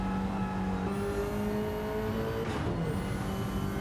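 Subaru BRZ engine in a racing video game lapping the Nürburgring Nordschleife, a steady drone with shifting tonal lines as revs rise and step through gears, continuous and fairly loud with no talking.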